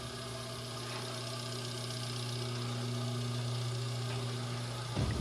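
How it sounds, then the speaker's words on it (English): A 1930s Heller elevator motor-generator set in a machine room runs with a steady, loud, droning mechanical hum and strong tonal whine, rising slightly in loudness, with a sharp clunk near the end. "Let's see this generator start up"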